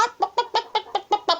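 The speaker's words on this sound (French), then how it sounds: "Les poules derrière gloussaient." Hens cluck in a quick, even series of about eight short calls, close and clear with no voices.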